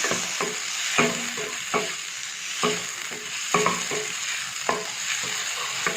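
A sprig of curry leaves goes into a mutton liver pepper fry masala, which sizzles in the pan while a spatula stirs it with repeated, rhythmic scraping knocks.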